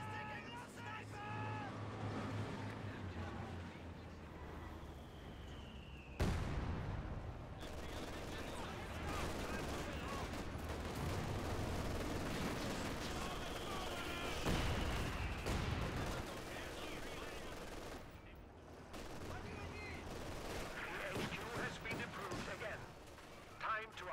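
Gunfire and artillery blasts from the Company of Heroes 2 battle game, a steady rumbling barrage with scattered sharper shots, running continuously with voices talking over it.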